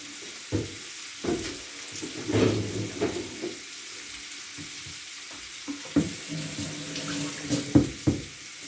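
Running tap water and clinking dishes in a home kitchen sink, with intermittent splashes and knocks of crockery at close range, moderately loud and irregular.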